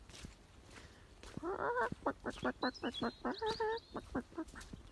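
A run of rapid clucking calls from three hens in a pen, close by, over a soft background hiss with a few higher chirps mixed in.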